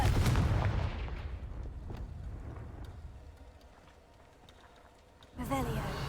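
The Confringo blasting spell in Hogwarts Legacy opens with a loud burst that slowly fades to a low rumble, and a voice speaks near the end.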